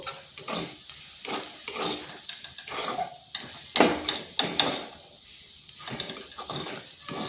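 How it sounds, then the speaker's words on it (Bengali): A spoon stirs a vegetarian patty filling with chili powder and black pepper powder in a hot pan, giving repeated scraping strokes over a steady sizzle and hiss, fairly close and uneven in rhythm. "এরপর এগুলো ভালোভাবে মিশিয়ে নিচ্ছি"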